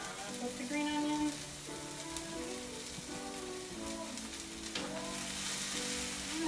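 Red pepper and green onion sizzle steadily in a hot pan while pizza toppings are prepared, a continuous close frying crackle with faint tonal kitchen sounds layered over it.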